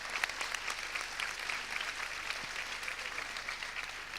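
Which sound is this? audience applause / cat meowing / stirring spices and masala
audience applause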